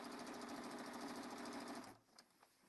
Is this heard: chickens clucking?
no